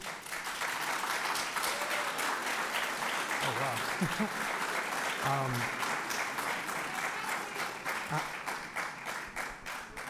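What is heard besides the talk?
audience clapping at a school budget meeting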